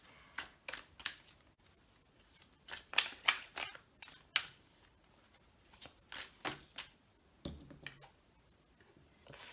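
Oracle cards are shuffled by hand, a series of crisp papery riffles and taps in irregular bursts, close and fairly quiet with no talking.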